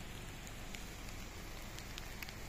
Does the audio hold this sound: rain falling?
yes